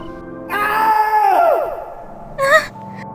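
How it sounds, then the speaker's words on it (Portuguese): A long, loud scream echoes through a forest in an animated movie, wavering and falling in pitch over about two seconds, followed by a brief shorter cry. "Foi um grito."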